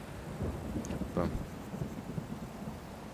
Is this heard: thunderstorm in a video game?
yes